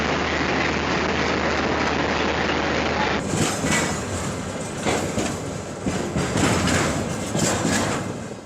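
A diesel locomotive train at Zima Station in East Siberia rolls past, with a steady loud rumble joined partway through by a sharper burst of rattling wheel and car noise, clattering continuously with no voices.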